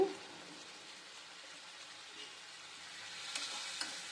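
Sliced onions sizzle softly in a pan with salt and a pinch of turmeric, a faint, even crackle with a few light stirring scrapes near the end.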